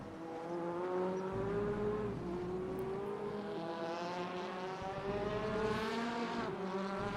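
A race car at the Zolder circuit heard from onboard as it brakes hard into a turn, the engine note dropping steadily through the downshifts in a loud, continuous drone with no one talking.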